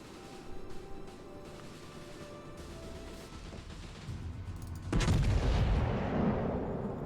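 Warship guns fire in World of Warships, first as scattered distant thuds, then as a heavy salvo boom that swells into a sustained roaring rumble and slowly tails off.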